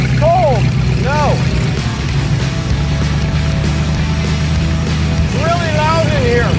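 A big block engine roars inside a Suzuki Samurai cabin while driving, a loud steady drone close up, with squeaks and whines over it and people talking.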